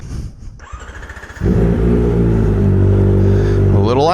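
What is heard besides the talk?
Kawasaki ZX-4RR motorcycle revving to redline without exhaust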